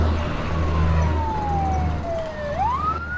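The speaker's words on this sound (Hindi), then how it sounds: "ये फायर ब्रिगेड की गाड़ियाँ इस तरफ क्यों जा रही हैं?" Fire brigade trucks pass with wailing sirens, one long tone sliding steadily downward before a second siren sweeps up near the end, over a low vehicle rumble.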